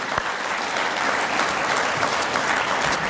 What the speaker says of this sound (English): give these 3 a big round of applause for all that they have done